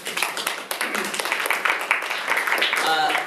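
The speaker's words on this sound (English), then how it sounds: "We give yourselves a round of applause." Audience at a university debate on voting rights clapping as a round of applause, a continuous spread of many hands with talk mixed in throughout.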